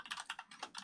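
Code is typed on a computer keyboard, a brief run of soft, rapid key taps heard faintly and close.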